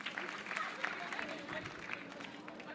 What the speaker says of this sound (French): Applaudissements pour le grand prix du jury aujourd'hui, l'équipe 3